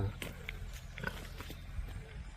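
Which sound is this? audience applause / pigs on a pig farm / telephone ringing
pigs on a pig farm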